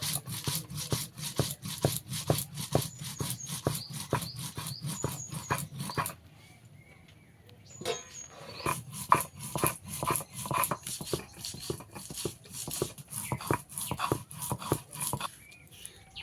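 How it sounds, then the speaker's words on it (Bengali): Ginger and cumin are ground by hand on a grinding stone into a fine paste, a rhythmic scraping rub repeating in quick strokes, close and fairly loud, with a brief pause midway before the grinding resumes. "আদা জিরেটাকে আমি একদম মিহি করে বেটে নেব।"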